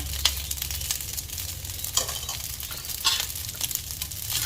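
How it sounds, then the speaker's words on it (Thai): Fried rice with larb seasoning and fried chicken is stir-fried in a pan, a steady close sizzle broken by repeated scraping strokes of the spatula, with no talking. "หลังจากนั้นเราก็ทำการผัดให้เข้ากันค่ะ"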